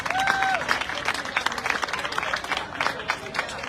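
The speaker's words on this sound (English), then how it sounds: "Please give them a big round of applause." An outdoor crowd at a neighborhood awards ceremony applauds vendors, steady mid-distance clapping with a few voices and a brief whistle at the start.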